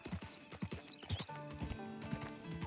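Clip-clop of horse hooves in the Red Dead Redemption 2 video game, a steady close trotting rhythm with a brief whinny, no talking.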